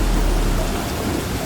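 Heavy rain pours in a dense, loud roar while deep thunder rumbles low beneath it, a steady unbroken downpour with no voices.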